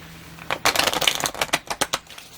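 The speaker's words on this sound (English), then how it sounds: "So I'll shuffle these cards a bit" A deck of tarot cards being shuffled up close, a dense riffle of papery flutters followed by several distinct card slaps in a slowing rhythm, heard alone.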